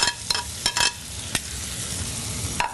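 Bacon and shallots cooking in melted butter in a pan, a steady close sizzle punctuated by a few sharp spoon or spatula scrapes and clacks.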